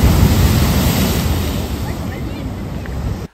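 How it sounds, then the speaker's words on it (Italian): Sea waves breaking on the shore at Sanremo, a loud broadband wash of surf mixed with wind buffeting the microphone, slowly easing off toward the end. "qua ci arrivano le onde addosso"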